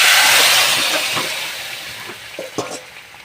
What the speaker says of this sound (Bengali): এবার আমি ঝোলটা ঢেলে দিলাম